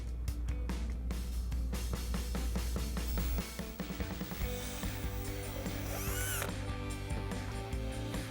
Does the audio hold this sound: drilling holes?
yes